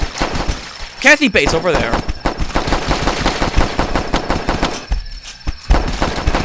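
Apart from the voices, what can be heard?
gunfire in a video game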